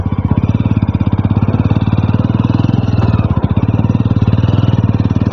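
A motorcycle rides along a hill road in Meghalaya, its engine thrumming steadily and close throughout with a rapid, even pulse and no strong revving.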